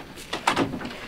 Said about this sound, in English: The only thing you have left to do now is to close the back door